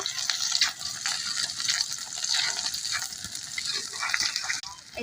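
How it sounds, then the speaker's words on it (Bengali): Garlic and cumin sizzling in hot oil in a village kitchen, a steady crackling hiss that is loud and close, with no talk. "আমার তেল গরম হয়ে গেছে আমি রসুন দিয়ে দেবো তারপরে জিরা দেব"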